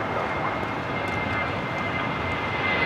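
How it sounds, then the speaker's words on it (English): An Airbus A320 taking off at LAX, its engines giving a loud, steady broadband roar that swells slightly toward the end. "This is Valerie 7849 taking off to Oaxaca on the A320."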